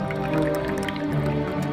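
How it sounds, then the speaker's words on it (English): Water trickles and drips steadily into a scaled-up replica of an ancient water-timed alarm clock as its level rises, a continuous wet filling sound beneath a sustained musical backdrop. "Water is used as a timing mechanism in the machine."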